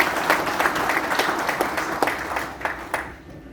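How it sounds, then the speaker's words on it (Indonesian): An audience applauds a speaker at a Partai Demokrat gathering with a lively burst of many hands clapping together, the crisp claps staying strong before tapering off toward the end. "Tepuk tangan untuk Bung TRH."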